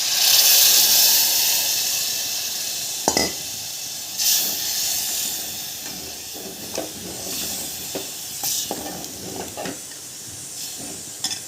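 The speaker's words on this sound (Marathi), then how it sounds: "आणि हे डाळीचं पाणी सुद्धा आता यामध्ये टाकायचं आहे" Dal cooking water hits a hot tempering in a pan for a Marathi-style curry and bursts into a loud hiss and sizzle, which eases into a steadier, quieter frying sound broken by a few clinks of stirring.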